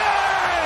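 Basketball arena crowd roaring for a LeBron James play, a brief, loud, dense wall of cheering voices.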